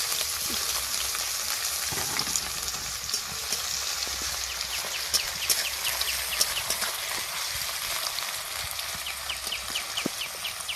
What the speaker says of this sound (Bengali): এবার কড়ার মধ্যে কিছুটা সরষের তেল দিয়ে দেব। তেলটা গরম হয়ে গেছে, এবার পেঁয়াজ কুচিটা এর মধ্যে দিয়ে দেব।